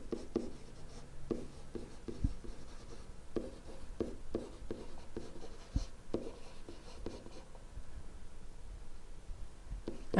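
A stylus writing quickly on a tablet during a math lecture on continuity, producing soft, irregular tapping and short scratchy strokes, close but quiet, with no talk.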